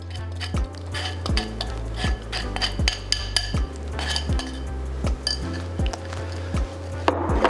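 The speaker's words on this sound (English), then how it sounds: "we just stir to get that oil and honey coated on all those oats" Oats, oil and honey stirred together in a bowl for coconut pecan granola, a spoon scraping and clinking against the sides in steady repeated strokes, close and clear with no talking.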